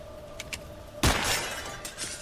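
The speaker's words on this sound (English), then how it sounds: "Especially if you're wasting bullets to shoot through glass doors." A glass door shatters from a gunshot in the horror game Nocturnals: one sudden loud crash followed by a second of tinkling, scattering shards against a quiet room tone.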